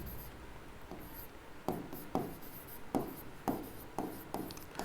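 Chalk or marker writing on a board during a chemistry lesson, a series of short scratchy strokes in an irregular rhythm, close and fairly quiet, with no talking.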